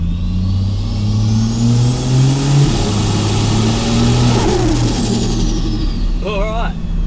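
A 530HP Ford Falcon XR6 Turbo ute idles and revs with a steady, loud engine drone and rising, falling tones, heard close up, with a brief squeal near the end.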